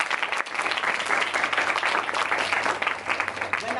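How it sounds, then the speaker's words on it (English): Audience applause at a student Toastmasters speech evaluation, a steady, full round of clapping from a roomful of people, sustained at an even level throughout with no voices over it. "I think he deserves a round of applause."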